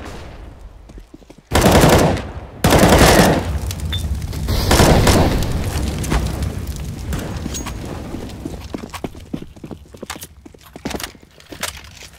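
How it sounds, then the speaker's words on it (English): A flashbang grenade goes off in Counter-Strike with a sudden loud blast and ringing, followed by a second burst and then a long stretch of dense gunfire and in-game clatter that thins into scattered sharp shots. "I am throwing a flashbang."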